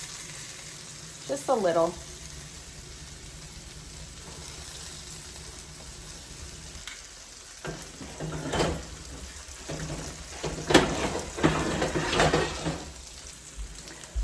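Halibut sizzling in a pan with butter, a soft steady frying hiss beneath louder spatters and clinks, while a person briefly speaks.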